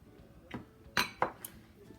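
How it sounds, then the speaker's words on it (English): A spoon stirs white sugar and ground cinnamon together in a bowl for snickerdoodle cookies, making a few faint scrapes and then a couple of sharp clinks against the bowl's side. "In my bowl, I have 2 tablespoons of white sugar and 2 teaspoons of ground cinnamon, and I stir them together until it's combined."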